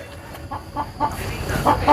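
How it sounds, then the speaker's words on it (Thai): A hen clucks in short, repeated bursts that grow slightly louder toward the end, close by over low background noise, with no talking. "โอ้ไก่มันเป็นห่วงไข่บ่เนาะ"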